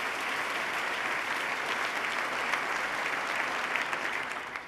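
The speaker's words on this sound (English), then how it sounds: "Let's give Abby a round of applause" A large audience applauds steadily at a State of the State address, dense, sustained clapping that fills the room for several seconds before starting to fade.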